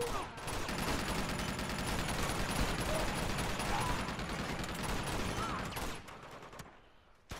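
Gunfire from the PS4 remaster of Uncharted 2: Among Thieves rattles in dense, continuous bursts of overlapping shots. The shooting drops away near the end before a brief final burst.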